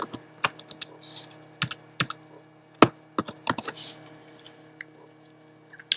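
Text being typed on a computer keyboard, a quick irregular patter of close, crisp key clicks with short pauses between groups, heard alone in a quiet room.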